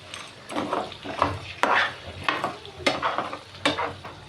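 Prawns coated in turmeric sizzle in a hot pan while a spoon scrapes and stirs them in several distinct strokes, metal clinking against the pan between bursts of frying.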